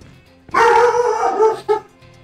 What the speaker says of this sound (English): Sorry if my dog is deafening y'all's ears.